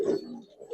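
Pigeon at a pigeon farm, just released, gives a single brief soft coo, close and faint.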